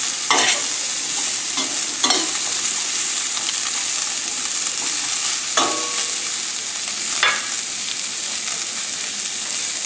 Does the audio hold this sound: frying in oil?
yes